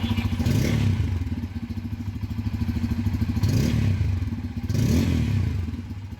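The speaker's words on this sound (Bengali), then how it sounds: "গাড়ির ইঞ্জিনের সাউন্ডটি শুনুন" A Bajaj Pulsar N250 motorcycle engine idles steadily and close by, a loud low throbbing with rhythmic pulses and a few brief swells in revs, with no voices.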